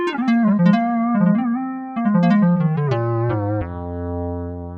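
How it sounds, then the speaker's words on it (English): A synthesizer lead with a classic square-wave tone plays a quick, bright melodic line with stepping and sliding notes, then settles on a held low note. It sounds loud and buzzy and is heard alone. "Next, we have a classic square wave."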